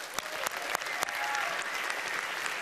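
An audience at a magic show applauds a volunteer, opening with a few distinct sharp claps that swell into steady, moderately loud applause.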